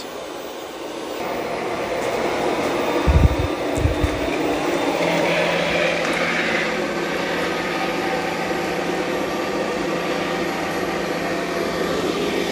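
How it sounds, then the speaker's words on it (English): An ECOVACS DEEBOT T20 Omni robot vacuum and mop drives onto carpet, lifts its mop pads with a brief clunk, and its motor whine swells into a louder, steady rushing suction that holds close and continuous. "There, it lifts the mop pads and increases suction power because it's on carpet."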